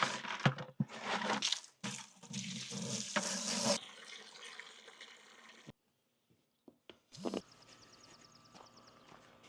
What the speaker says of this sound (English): we're gonna fill it with water and then test it just spraying water